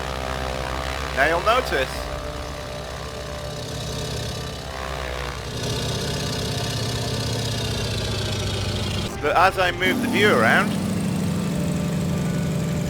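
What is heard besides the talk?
propeller aircraft engine in a flight simulator video game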